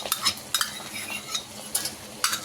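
Veg noodles being stirred in a pan with vegetables, vinegar, tomato ketchup and sauces: a utensil scrapes and clinks against metal in several quick, close strokes, with no voices.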